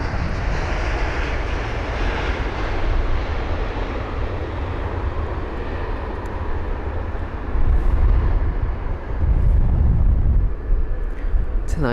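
A Gulf Air Boeing 787 from Bahrain moves at London Heathrow, its engines giving a broad, steady jet roar that swells louder toward the end.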